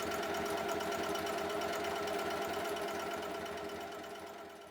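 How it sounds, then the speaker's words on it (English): A sewing machine runs steadily along the bottom edge of a waxed canvas foldaway travel backpack, a fast even whirring stitch rhythm that holds close and loud before fading slightly at the end. "We're going to sew this bottom edge here"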